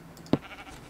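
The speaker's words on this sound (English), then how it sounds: "Oh, he killed a sheep." A single short sheep bleat in a video game, one brief faint cry over quiet background.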